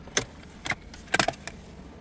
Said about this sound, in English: Turn the key off.